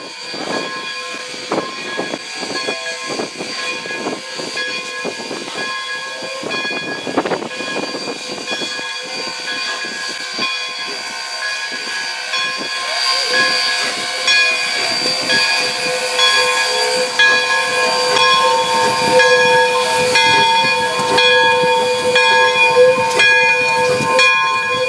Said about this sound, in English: we managed to see 1225 again as the locomotive was backing down into the Great Lakes Central's yard